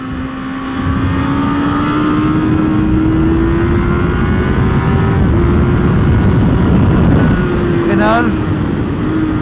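Motorcycle engine held at a steady drone, pitch creeping upward and briefly dipping near the end as gears change, loud and continuous throughout with no talk over it.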